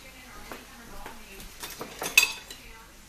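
Metal whisk clinking against a mixing bowl while dry flour mixture is prepared for candy crunch cookies, with scattered close taps and scrapes growing louder toward a sharp clink near the end.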